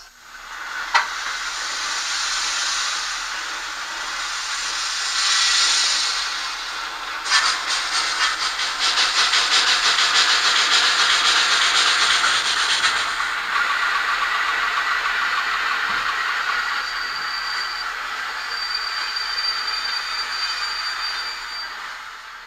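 A PIKO BR 82 N-scale model locomotive runs with its sound function on, giving a steady, continuous steam-like hiss and chuff for over twenty seconds, close and even, with no voices.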